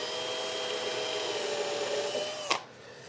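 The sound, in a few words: drilling a pilot hole for a drawer knob screw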